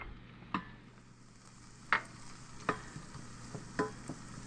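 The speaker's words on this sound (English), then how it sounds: "We just want to sweat these onions so that we're not really trying to get much color on them." Chopped onions sweating in melted butter over gentle heat for a beer tomato soup: a low, even sizzle broken by about five distinct spoon scrapes and taps against the pan, close and unaccompanied by speech.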